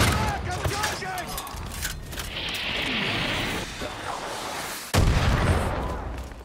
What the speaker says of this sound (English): They just call in an airstrike?